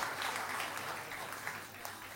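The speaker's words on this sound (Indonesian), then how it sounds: "Boleh kita berikan tepuk tangan yang meriah bagi anak-anak sekolah minggu kita." A church congregation gives warm applause for the Sunday school children at a Christmas service, a faint, continuous patter of many hands heard from a distance.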